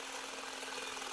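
An electric mixer with a whisk attachment runs on a slow setting while stirring blueberry freezer jam, giving a steady, close, continuous motor whir with no talk.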